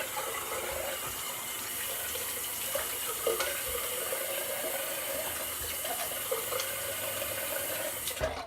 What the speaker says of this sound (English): we'll rinse off and do the post shave.